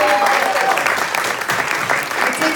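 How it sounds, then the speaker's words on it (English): Loud, continuous applause from a comedy theatre audience, thick overlapping claps with a few cheers and crowd noise mixed in, staying strong throughout with brief dips. "Can we first give a round of applause to Pat,"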